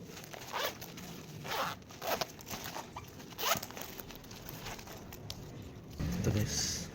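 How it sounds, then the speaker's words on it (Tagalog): Zipper on a one-piece sling bag being pulled open and closed, several short rasping zips in an irregular rhythm, close and fairly faint, with a person talking quietly in between. "Oh, may tatlong siyang zipper guys."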